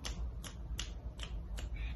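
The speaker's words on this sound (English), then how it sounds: "So I need everyone to snap your fingers just like this." A group snapping fingers in unison, five crisp snaps spaced about a third of a second apart over a low background hum.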